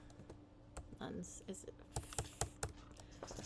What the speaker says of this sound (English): I'm typing at an angle.